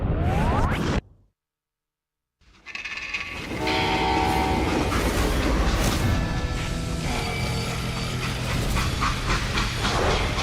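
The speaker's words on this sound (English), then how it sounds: "how'd they stop this train in the first place?" Train in Call of Juarez: Gunslinger, a brief hush and then a loud, steady rumble of rolling freight cars with a sounding horn and rattling metal, continuous and close, with no speech.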